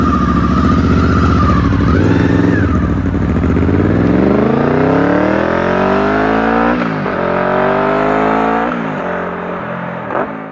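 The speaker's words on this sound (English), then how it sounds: "the VFR 800 was an incredibly agreeable sport bike for street use with an awesome sound" A Honda VFR 800 sport motorcycle engine revs up, pitch climbing smoothly through the gears, loud and close, then easing off near the end.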